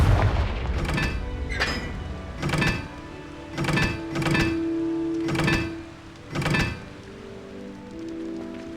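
Confringo spell blasts in Hogwarts Legacy: a series of about seven heavy booming explosions, loud and close, spaced irregularly with a low rumbling wash between them.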